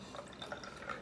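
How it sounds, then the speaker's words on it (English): Kangen water pouring into a glass gives a soft, brief trickle with a few faint drips and gentle splashes. "I put that entire Kangen water into the glass."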